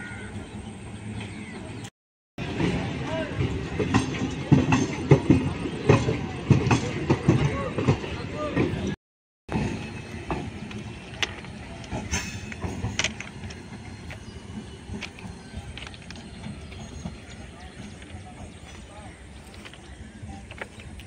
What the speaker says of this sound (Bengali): বাঁকুড়া লোকালটি মোসাগ্রামে ছাড়লো 5টা 6।